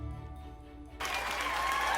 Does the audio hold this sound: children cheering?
yes